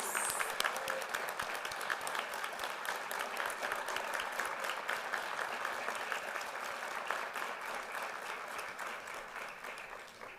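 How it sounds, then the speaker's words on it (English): Applause for promotees at a fire and rescue promotion ceremony, a large crowd clapping steadily and evenly throughout, slowly thinning toward the end. "Can we give one last round of applause to all of our promotees?"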